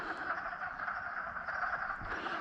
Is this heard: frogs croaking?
yes